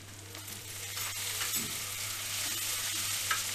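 Tomatoes sizzle and fry in a hot pan while being stirred, a steady broadband crackle with occasional utensil scrapes and soft knocks, close and continuous without speech.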